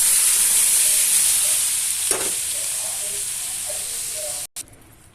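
Lentils go into a hot pan with fried ridge gourd and tempering for Telugu beerakaya pappu, giving a steady loud sizzle and hiss with a brief clatter partway through.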